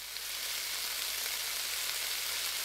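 Butter burning in a frying pan in the Cooking Simulator video game, a steady, even sizzle and hiss that holds at constant loudness throughout, with no talking.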